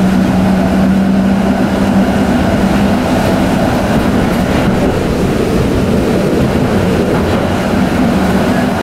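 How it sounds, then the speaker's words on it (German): A PCC tram car rides through Antwerp with a loud, steady rolling rumble and rail noise the whole time, heard from on board, with no talk. "zurück geht es wieder mit einem PCC-Wagen"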